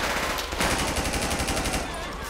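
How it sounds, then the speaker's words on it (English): Rapid automatic gunfire during a police shootout in the video game GTA 5, with the LSPDFR mod, sounds as a dense, continuous rattle of close, loud shots throughout the short stretch. "Still got shots fired, more shots fired."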